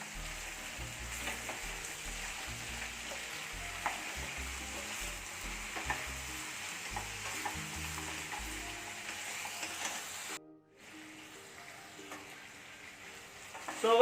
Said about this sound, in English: And fry the paste along with the mutton.